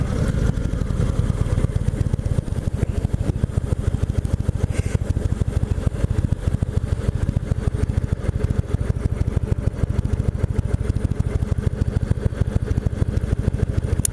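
A 2017 Indian Chieftain Limited motorcycle is ridden on the road, its V-twin engine close and steady with a throbbing low-pitched pulse and some wind rush. The level stays constant, with no voices.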